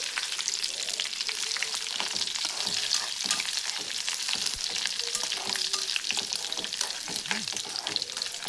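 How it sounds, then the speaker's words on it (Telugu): Curry leaves, dried red chillies and crushed garlic fry in hot oil, giving a steady close crackling sizzle with stirring scrapes throughout and no talking. "ఇందులో కరివేపాకు, ఎండుమిర్చి, దంచిన వెల్లుల్లి ఈ 3 వేసుకొని కొంచెం ఫ్రై చేసుకోవాలి"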